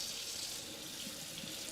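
Hot water runs steadily from a kitchen tap into a sink during meal prep, a soft continuous hiss and splash, faint and unbroken, with no talk.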